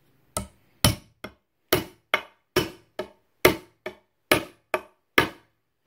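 Sharp hammer blows forcing a split along a wooden bow stave: about a dozen crisp, close impacts at an uneven pace, each ringing briefly before a short gap of silence.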